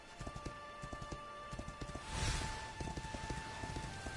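Steady horse hooves clip-clop at a walking rhythm while riding in the Dragon Quest XI video game, moderately close, with a brief rushing swell midway and no talking.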